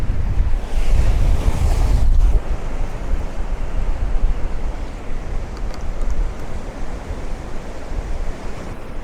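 Sea waves crash and wash against a concrete breakwater on a windy coast, with a loud surge early on, then a steady roar of surf under gusting wind buffeting the microphone.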